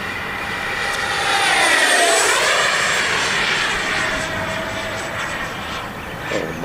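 Freewing twin 64mm EDF F-14 Tomcat RC model jet at full throttle with wings fully swept, a loud, sustained ducted-fan roar and whine that sweeps in pitch as the model passes close by and then recedes.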